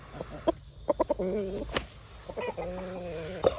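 Chickens clucking nearby in short bursts and drawn-out calls, a few sharp rooster-like notes mixed in, with faint background sounds.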